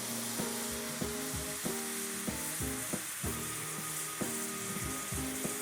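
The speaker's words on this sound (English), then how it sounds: "our garlic and our chopped onions, it's sizzling nicely on the pan" Garlic and chopped onions sizzle steadily in oil in a pan over medium heat, a continuous broadband hiss punctuated by repeated sharp clinks of a utensil against the pan.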